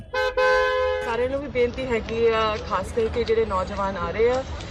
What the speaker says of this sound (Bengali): শিখ চালকরা ক্রমাগত হর্ন বাজিয়ে গেছেন